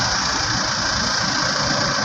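The 2.0-litre engine of a second-generation Honda CR-V runs steadily with a dense, even drone. It is close and loud, holds level throughout, and no voices are heard.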